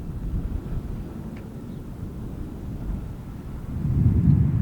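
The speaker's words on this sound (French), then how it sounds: "Et si le tonnerre est parfois audible" Low thunder from a distant storm rumbles over the lake near Évian, a long soft roll that swells louder toward the end, with no voices.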